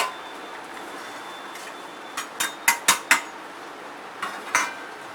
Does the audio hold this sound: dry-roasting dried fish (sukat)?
yes